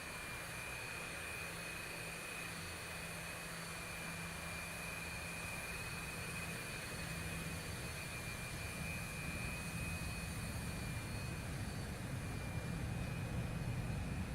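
Jet aircraft taking off in a combat flight game: a steady, even engine roar that slowly builds and thickens in the low end, with no voices over it.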